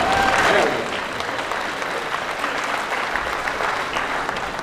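A graduation audience at Haskell claps in full applause, dense and steady throughout. It is loudest at the start and then settles into a continuous, even patter.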